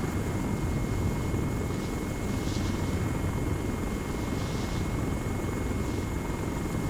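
Helicopter flying in the Arma video game during a Zeus operation, a loud, steady, close rotor and engine drone with continuous broadband roar and faint periodic swells.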